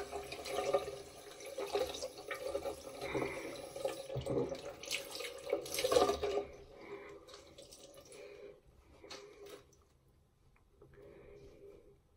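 Hot water runs from a bathroom tap into a sink, a steady splashing flow that is loud at first, then quieter and more broken toward the end.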